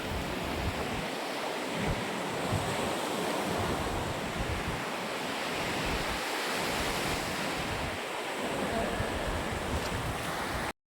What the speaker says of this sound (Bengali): ছিলাম আমি দীঘার বিচে